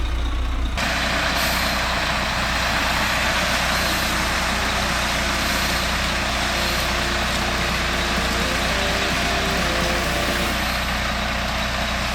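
Concrete truck coming down a driveway at a barndominium build, a loud continuous diesel rumble with hissing air and faint tonal beeps, steady throughout with no voices.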